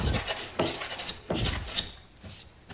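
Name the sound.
hand plane taking fine shavings from wood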